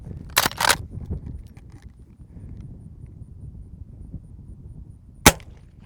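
A low-decibel .44 load fired from a Marlin 1894 lever-action rifle makes a single sharp, short crack near the end. A couple of softer thumps come earlier over quiet outdoor background, and no one speaks.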